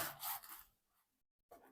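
A knife cuts through a mackerel Turkish-style sandwich with a quiet, brief sawing rasp, then goes silent before another short faint stroke.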